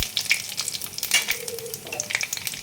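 Panch phoron whole spices crackle and pop in hot oil for a taro and tengra fish curry. Dense sizzling with rapid sharp spits and small bursts sounds close by, and there is no talking.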